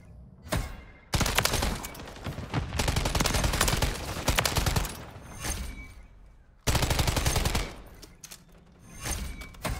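TAQ Eradicator rifle firing in Call of Duty: Modern Warfare III, rapid automatic bursts of gunfire in several sustained strings with short gaps between them, punchy and close.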